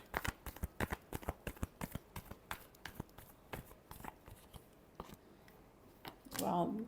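Tarot cards being shuffled by hand, a quick run of crisp papery riffles and taps close by, ending with a brief voice.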